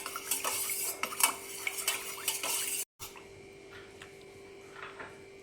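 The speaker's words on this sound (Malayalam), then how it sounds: "ഒന്ന് ഇളക്കി കൊടുക്കാം." A spoon stirs three tablespoons of honey into iced lemon tea, with steady clinking and scraping against a glass or jug, a brief gap midway, then softer continued stirring.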